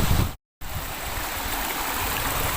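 A river stream flows at its source along a riverside trail, a steady broadband rush of water close by. It runs alone except for one brief dropout.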